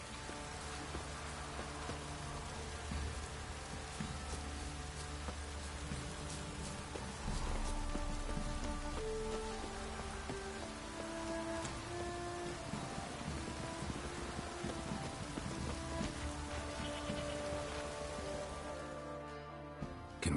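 Continuous rain patters and splashes on surfaces for a long stretch, steady and moderately close, with faint tonal sounds drifting beneath it.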